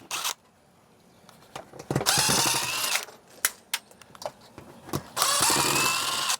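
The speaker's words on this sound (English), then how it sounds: "So now I'm going to remove these screws I put in earlier." A power drill backs screws out of a mini split mounting bracket in two loud whirring bursts, separated by clicks and handling noises.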